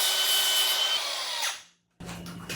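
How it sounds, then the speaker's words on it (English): Angle grinder fitted with a flap wheel buffing mill scale and rust off steel, a loud steady whine that winds down into silence, then a rougher burst of grinding resumes. "take off the cutoff wheel from this grinder and put on"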